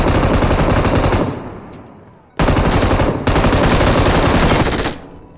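M249 machine gun fire in PUBG during a solo third-person Conqueror-rank match: loud, sustained automatic bursts, a brief fade and gap near the middle, then another long burst that cuts off near the end.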